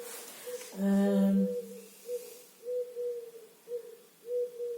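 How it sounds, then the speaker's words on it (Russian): A dove coos outside a window, a near, clear, resonant call that opens with one long drawn note and then repeats in shorter soft phrases at a steady rhythm, heard alone in a quiet room. "Под окном у меня здесь поет голубка, наверное."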